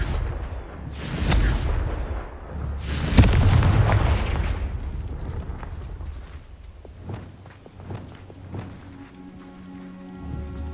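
Confringo explosion spell in Hogwarts Legacy, loud booming blasts early on with rumbling debris that fades into scattered crunchy impacts and footstep-like clatter, no talking.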